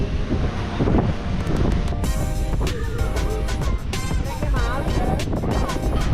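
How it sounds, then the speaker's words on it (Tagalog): Strong wind on Bulabog Beach, Boracay, buffets the microphone with a constant roaring rumble, and faint voices talk beneath it. "Malakas ang hangin kaya ayun kite surfing ang activities dito"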